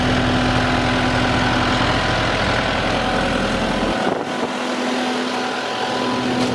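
A Kubota skid loader engine idles with a steady, low, continuous rumble and hum that eases slightly partway through.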